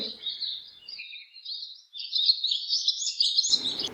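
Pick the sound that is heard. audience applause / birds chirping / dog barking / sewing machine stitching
birds chirping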